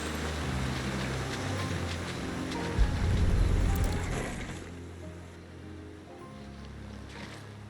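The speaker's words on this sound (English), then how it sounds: "We can collect the water of the river from here." River water flowing in the video game Final Fantasy XVI, a continuous broad rushing wash with a swell in the middle before easing to a softer steady flow, with no voices.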